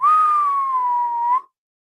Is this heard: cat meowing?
no